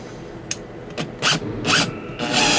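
Power drill working on a Revenge From Mars pinball machine: four or five short whirring bursts of the drill, each a little longer than the one before, close by in a quiet room.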